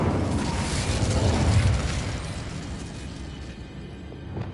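Fire spell cast in Hogwarts Legacy on PS5, a dense roaring burst of flame and crackle that fills the clip loudly, then slowly thins out before a small pop at the end.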